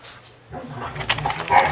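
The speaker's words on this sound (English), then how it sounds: "I had to calm down the dogs. They were going nuts." Dogs start up after a quiet moment, with short barks and yips mixed with whimpering, close and rising in intensity toward the end.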